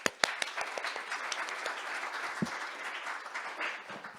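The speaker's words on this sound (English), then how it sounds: "Please welcome Ambassador Raper with a big round of applause" Audience applause welcoming Ambassador Raper to the stage at a global governance and diplomacy workshop, a few sharp claps first and then a steady, moderately distant patter of many hands that swells near the end.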